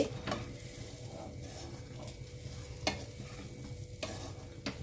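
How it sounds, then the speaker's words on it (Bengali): Mixed vegetables and spices for Bengali-style oats khichdi fry with a soft, steady sizzle in a pan, broken by occasional spoon scrapes while being stirred, fairly quiet and with no talk. "সব সবজির সাথে মশলার সাথে মিশিয়ে দিচ্ছি।"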